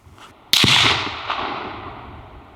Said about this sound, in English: All right, so let's shoot one more.